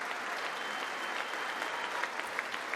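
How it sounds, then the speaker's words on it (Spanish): Sustained applause from lawmakers filling the US Congress chamber, a dense even roar of clapping hands with no pauses, steady throughout and heard from within the room. "a quien la Cámara dedicó este prolongado aplauso"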